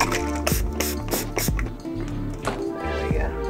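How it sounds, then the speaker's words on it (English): A spray bottle spritzes water onto an abstract acrylic painting of a surreal face, several quick hissing bursts in a row with clicking trigger sounds, close and fairly loud over background music. "Go ahead and add a spray bottle to this."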